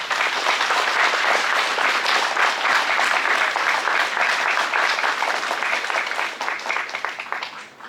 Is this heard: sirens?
no